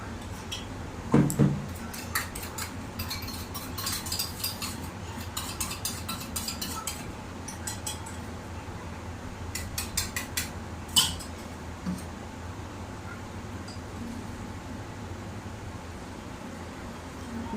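Dishes and cutlery clink in a home kitchen while rice is put on to cook and milk is set to make curd, with scattered light metallic taps and clatters over a steady background hiss, no talking.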